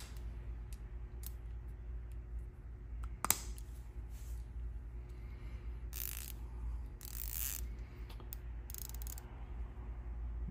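A fine-tooth socket ratchet wrench gives off scattered short clicks over a steady low hum, with one sharp snap near the start and a few brighter bursts later on.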